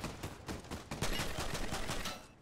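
Rapid gunfire from a shooter video game cracks out in a burst of loud, close shots, several sharp reports in quick succession.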